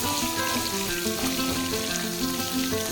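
Large chopped onions sauté in a pan for Salem tomato chutney, a dense, steady sizzle with faint crackles, close and fairly loud throughout, with no talk.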